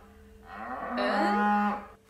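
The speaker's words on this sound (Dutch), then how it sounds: "De koe." A single long cow moo, low and drawn out for about a second and a half, rising and then fading, loud and close with no talk around it.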